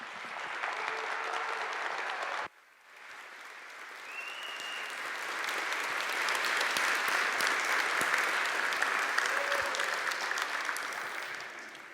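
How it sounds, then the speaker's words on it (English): A conference audience at the SCaLE 18x Linux expo applauds a speaker being introduced, loud sustained clapping that briefly dips then swells again and carries on for the full stretch. "please give the biggest round of applause to one of all of our heroes"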